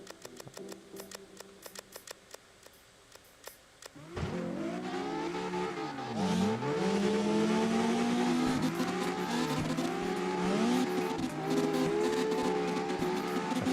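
A Precision drift car in CarX Drifting revs hard after a quieter idle-like stretch, its engine note climbing and dipping in sweeping pitch changes with bursts of throttle and faint tire squeal.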